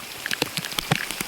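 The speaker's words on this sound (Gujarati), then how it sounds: "વરસાદ ભાઈ" Rain patters at a campsite during a storm, scattered drops tapping nearby surfaces in an irregular, crackling patter that stays fairly steady and close, with no voices over it.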